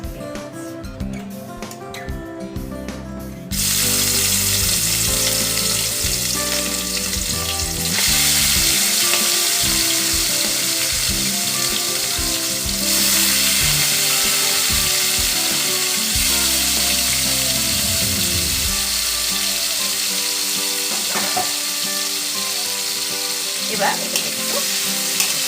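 Salted, turmeric-rubbed prawns hit hot oil and burst into a loud, dense, continuous frying sizzle that carries on throughout, with a few scraping clatters of stirring and a brief spoken word at the start.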